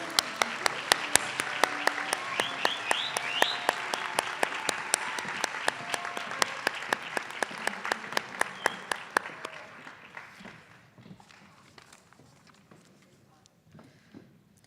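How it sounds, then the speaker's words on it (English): An audience at an academic excellence award ceremony gives a round of applause for Dean's List scholars, dense clapping that carries for about ten seconds, then thins out and fades to a few scattered claps. "Can we give a last round of applause to our Dean's List?"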